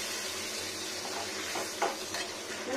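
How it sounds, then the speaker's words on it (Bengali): Water hitting a hot wok, a steady close sizzle under a few light scraping stirs and small clinks. "এখানে একটু জল দিয়ে নিচ্ছি"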